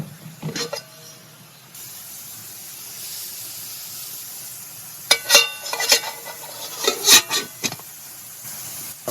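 Shrimp frying in a hot pan at a winter truck campsite, giving a steady low sizzle and hiss with a burst of louder crackling and scraping near the end as they are flipped.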